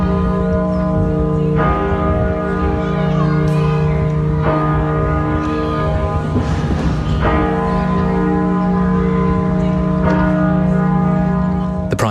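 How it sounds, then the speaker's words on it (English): Church bells ring out at York Minster, a dense, continuous peal of overlapping chimes sustained loudly throughout with no talking. "Bells have been ringing out at churches across the country"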